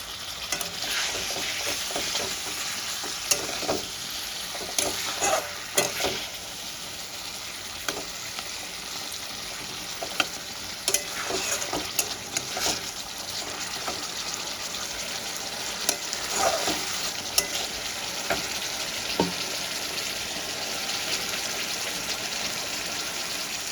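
Katla fish curry fries and sizzles in a pan as a little water is added, a continuous bright crackling hiss broken by repeated scraping and clattering stirs, close and steady with no talking.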